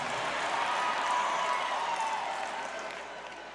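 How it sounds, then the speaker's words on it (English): Audience applause at a Dave Chappelle stand-up comedy show: a steady, dense wash of clapping and crowd noise that holds evenly, then eases slightly toward the end. "And a big applause break"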